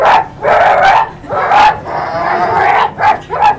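Hound dogs bark and yip in a string of loud, close bursts, running together in an excited chase chorus with only short gaps between calls.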